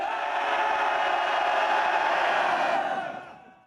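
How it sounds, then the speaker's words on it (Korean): Military recruits in training roar a sustained battle cry together for about five seconds before a night march to a mountain summit, a dense, loud wall of massed voices that holds steady and then fades out at the end. "전방에 5초간 함성!"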